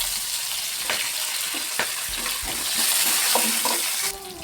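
Spring onions go into a pan of frying peanuts with green chillies, giving a steady close sizzle with stirring scrapes throughout and a louder hiss near the end.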